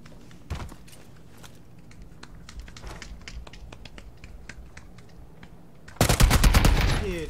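Video game gunfire: scattered faint clicks and single pops, then a loud, rapid burst of automatic shots erupts near the end.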